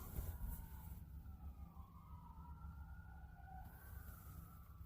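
A siren wails faintly in the distance, its pitch gliding up and down over a steady low rumble.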